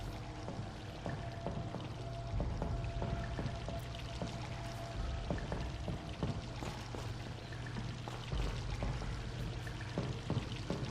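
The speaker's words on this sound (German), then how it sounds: "ich glaube, wir müssen wieder Wasser ablassen" Water pours and drains steadily in the Vampyr video game, a continuous rushing wash with scattered splashy drips throughout, loud and close with no talking over it.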